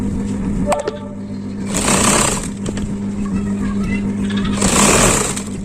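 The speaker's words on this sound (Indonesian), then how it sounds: "Lanjut kita jahit sampai ke bagian bawah." A sewing machine stitches a sleeve seam on a garment with a steady mechanical whirr that swells in two louder runs, and someone talks over it.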